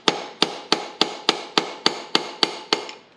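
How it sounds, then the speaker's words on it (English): A hammer striking a brass drift during an MG Midget 1275 engine teardown: ten sharp, evenly spaced metallic blows, close and loud, with nobody speaking. "The brass hammer's brother, the brass drift."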